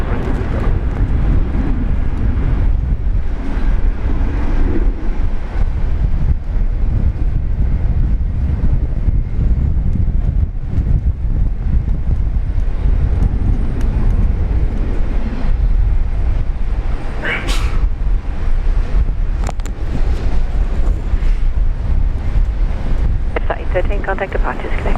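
An airliner takes off from runway 19 right at Brisbane Airport. A sustained broadband roar with heavy wind buffeting carries through, and voices come in at times.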